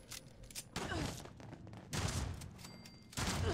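Shotgun blasts from the video game Fallout 76, several loud separate booms spaced about a second apart, with a brief burst of rapid gunfire and a voice murmuring between shots.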